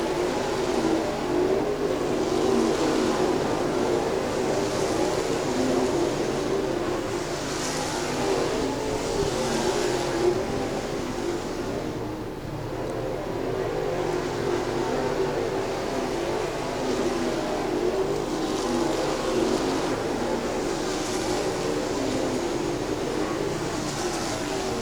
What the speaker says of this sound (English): Kyle Bronson about a half a straightaway away from moving into lap traffic.